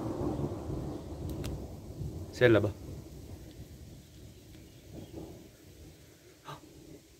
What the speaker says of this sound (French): il y a des morceaux de tonnerre qui viennent par là